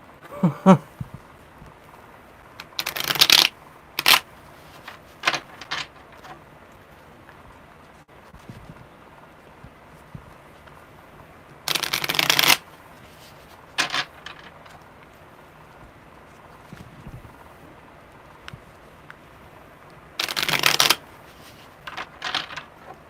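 Cards are shuffled in several quick, crisp riffling bursts separated by quiet pauses, with faint taps and handling noises between.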